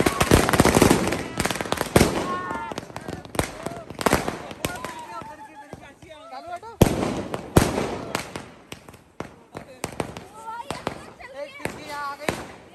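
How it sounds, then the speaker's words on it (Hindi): Diwali firecrackers, bullet bombs and strings of crackers, burst in loud, rapid volleys of sharp bangs, with busy crackling runs and pauses between bursts, while people talk and shout over them. "थोड़े बहुत बुलेट बम और पटाखों की लड़ियां"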